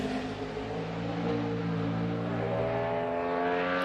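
A NASCAR Sprint Cup stock car runs a qualifying lap with a sustained engine roar whose pitch climbs steadily as it accelerates, loud and unbroken with no talking.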